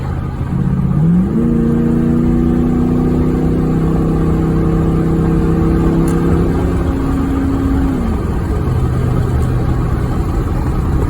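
A 2001 Ford F250 pickup with a 5.4 engine revs up and holds a steady climbing drone while passing on a highway, with constant road noise that continues after the engine settles.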